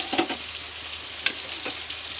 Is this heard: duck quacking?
no